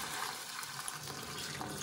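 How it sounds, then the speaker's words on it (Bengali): Boiled, thickened milk pours into a pan of carrots, a steady close liquid splash and trickle running continuously without a break. "এবার আমি এই সম্পূর্ণ দুধটা গাজরের মধ্যে ঢেলে দিচ্ছি।"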